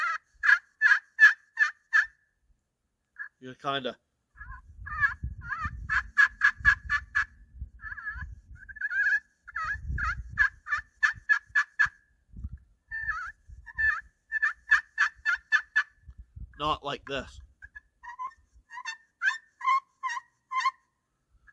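An HS Strut Cookie Cutter turkey pot call is played in rapid yelping runs of sharp, squeaky strokes, several flat-sounding sequences with pauses, while someone talks quietly in between.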